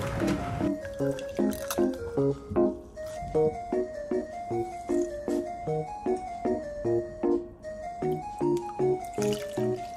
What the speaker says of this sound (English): Squeeze out excess water well.